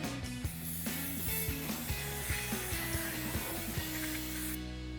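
Brake cleaner is sprayed down onto a PowerStop Z36 Extreme Truck and Tow 6-lug brake rotor for a 2012-2020 Ford F-150, a close, continuous aerosol hiss with a rhythmic pulsing tone running through it, ending abruptly.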